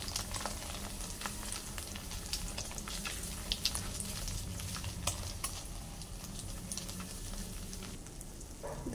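Tikoy slices frying in hot oil in a pan, a steady dense sizzle with faint crackles and pops running evenly throughout at close range, no talking.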